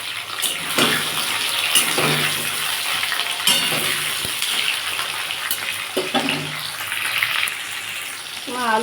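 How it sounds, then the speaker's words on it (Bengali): Potato and tomato sizzle together in a pan with a watery hiss and bubbling, occasional stirring clatters and a voice talking briefly over it, close up. "আলু আর টমেটো একসাথে দিয়ে ভেজে নেব"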